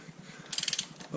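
A ratchet clicks in a fast, even series close by while loosening the sprocket bolt on a 1996 Honda CB750 F2, with a brighter metallic rattle partway through.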